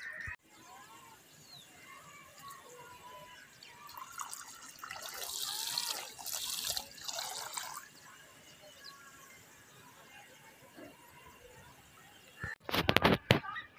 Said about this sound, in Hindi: तो आज है जी दूसरा दिन और ममती को लगा रहा हूँ मैं पानी